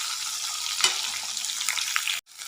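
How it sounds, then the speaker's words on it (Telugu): Sliced onions and green chilies fry in hot oil in a pan for a Telangana-style tamarind pickle, giving a steady, dense sizzle with a brief louder crackle and a short drop-out near the end. "ఇప్పుడు మిరపకాయలు కూడా వేసుకొని 1 నిమిషం పాటు వీటిని బాగా వేగనిద్దాం."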